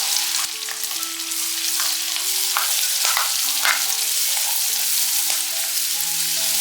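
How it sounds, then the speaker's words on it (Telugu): Steady, bright sizzling of onions, green chillies and curry leaves frying in hot oil with occasional stirring clicks, while a soft melody of held tones plays underneath. "వీటిని మనం గోల్డెన్ బ్రౌన్ వచ్చే వరకు బాగా వేయించుకోవాలి."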